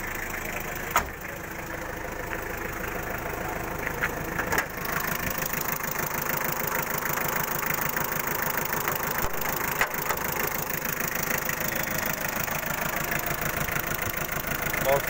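A Mitsubishi Kuda GLS engine idles steadily with a close, even mechanical rumble and faint rattles, interrupted by a couple of sharp clicks near the start.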